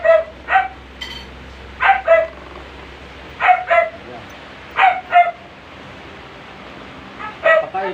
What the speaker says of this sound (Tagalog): Papaingay naman ang asong to.